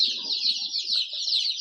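Ducklings at a poultry sale peep in a continuous high, shrill chorus, many birds close by and fairly loud, with faint low background murmur and no clear talking.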